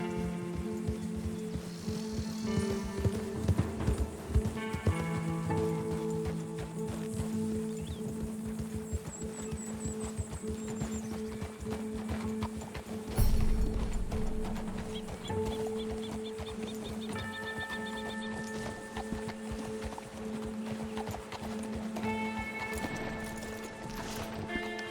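Horse hooves clip-clop steadily in the Red Dead Redemption 2 video game, a continuous rhythmic patter beneath a busy mix of music and ambient game sounds that runs for the whole stretch with no voices.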